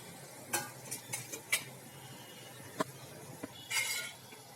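Bhaji greens with garlic chutney, green chillies and tomatoes, cooked without oil, are stirred in a pan, with soft scrapes and a few clinks of a spoon over a faint sizzle, quiet and close.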